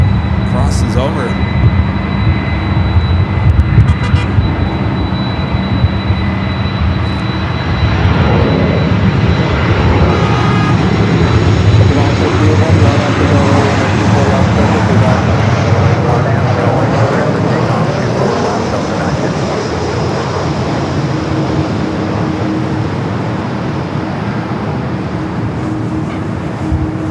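A Delta Airbus A330 jet takes off from runway 24 Left at LAX, a loud, sustained engine roar that gradually fades into distance, with a person talking over it.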